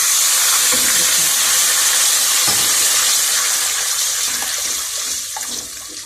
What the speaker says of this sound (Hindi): अब मैं पानी डालने लगी हूँ थोड़ा सा।